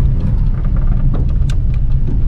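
A 1941 Plymouth Special Deluxe cruises down the road, its engine a steady, close low rumble with road noise and no voices.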